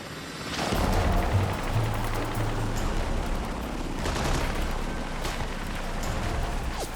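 Dense, sustained gunfire and a rumbling, booming wash from a mountainside battle with the Taliban continue for several seconds with no pauses, loud and close throughout.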